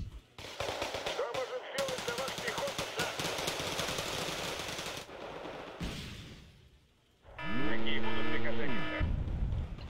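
Rapid LRM rocket barrage from a mech combat video game, a long dense burst of impacts and gunfire-like blasts up close, broken by a loud tonal warning-style sweep near the end.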